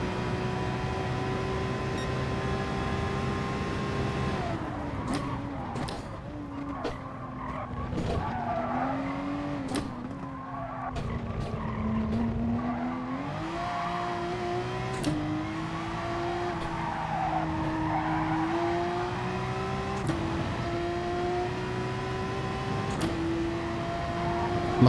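Race cars in GT Sport at Lago Maggiore West, close engines whining up and down through gears with tyre squeal and skidding, several cars audible together.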